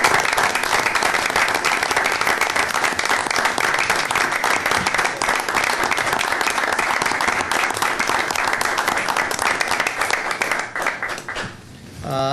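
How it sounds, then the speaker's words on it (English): Audience at a September 2011 board meeting applauds the station managers, a loud, steady burst of clapping lasting about eleven seconds before tapering off near the end. "we can give you a round of applause for the station managers"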